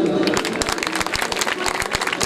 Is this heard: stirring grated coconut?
no